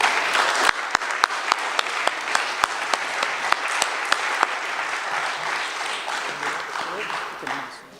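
An audience applauds to welcome a speaker at a recovery meeting, steady clapping from many hands with a few sharp nearby claps standing out, gradually thinning toward the end.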